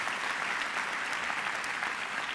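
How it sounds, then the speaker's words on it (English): A round of applause from the audience for honorees at a graduation ceremony, a dense, even wash of clapping from many hands, loud and continuous with no talking. "I wonder if you can just give another round of applause to our honorees"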